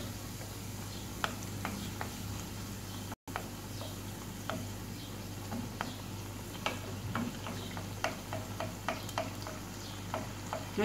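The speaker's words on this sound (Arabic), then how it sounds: "كنبداو نخوي فوق منهم شويه ديال الزيت باش كيتنفخوا" Small dough sweets fry in hot oil for a Moroccan honey-soaked chebakia-style treat, a steady sizzling bed with frequent sharp pops and crackles scattered throughout, close and continuous, with one brief dropout early on.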